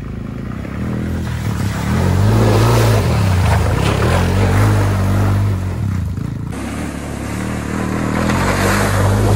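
A Honda 250EX ATV's engine drones and revs steadily as it churns through muddy holes, the pitch rising and falling close by, with a brief dip in the middle before the throttle picks back up.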